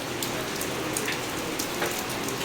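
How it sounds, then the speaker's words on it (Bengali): Steady rain pours down outdoors, a dense, continuous hiss of drops striking surfaces, with a few louder nearby splashes and no talking. "ফোনের মধ্যেই দেখতেই পাচ্ছ কত সুন্দর বৃষ্টি হচ্ছে।"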